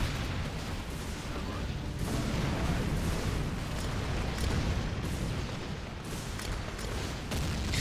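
Tunguska anti-air vehicles in Command & Conquer: Rise of the Reds fire at incoming Tomahawk missiles, a dense continuous rumble of rapid gunfire and blasts that stays loud and unbroken throughout.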